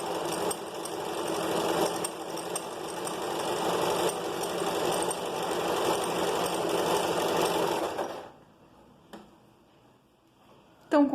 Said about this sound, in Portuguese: deixa eu costurar um pouquinho mais que eu consigo mostrar melhor pra vocês